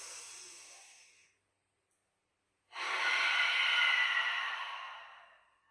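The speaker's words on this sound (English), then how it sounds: "Inhale and exhale." One slow, deep breath during a calming exercise, an airy breath fading out, a pause of silence, then a long, full, breathy exhale, close and soft with no speech.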